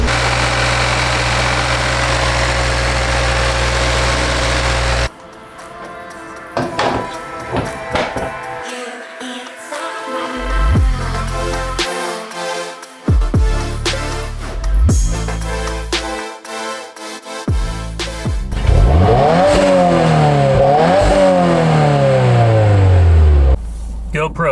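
A 2022 Subaru WRX with the FA24 engine and a Perrin charge pipe fitted idles loudly at first, then revs through several sharp throttle blips and a rising pull, with rumbling low engine tone throughout.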